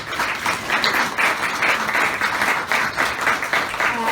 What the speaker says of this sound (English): Can you just give a round of applause?